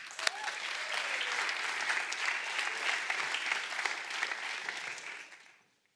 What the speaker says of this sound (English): Let's give him a very loud, warm round of applause as he takes stage.